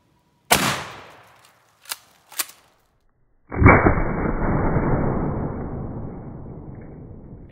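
A shotgun fires a 9-pellet 2 3/4 buckshot round at a pumpkin outdoors: one sharp blast, two lighter cracks after it, then a louder boom at about three and a half seconds that trails off in a long rumbling decay.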